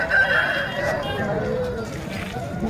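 A rooster crows amid the bustle of a busy rooster and chicken market, with a steady crowd murmur and people talking close by throughout.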